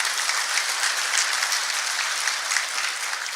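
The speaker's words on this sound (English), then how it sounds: "Give him a round of applause." Sustained audience applause at a Texas City-La Marque Chamber industry panel discussion, a steady dense wash of clapping that holds evenly throughout without voices.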